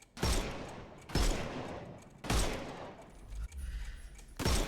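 Heavy gunshots in the Sherlock Holmes game, four loud booming blasts spaced about a second apart, each with a rumbling decay, no voices.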